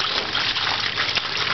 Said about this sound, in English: Look at that waterfall. That's a cool waterfall, isn't it?